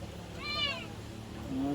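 A cat kept as the only companion of an elderly woman living at the foot of a mountain meows briefly once, then gives a short low mew, close by under a faint background hum.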